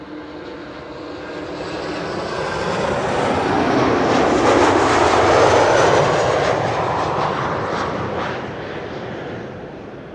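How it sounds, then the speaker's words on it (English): An Embraer 190 airliner arriving from Berlin at Schiphol passes overhead, a jet roar rising from a distance to a loud peak mid-pass, then fading away. "Embraer 190 arriving from Berlin."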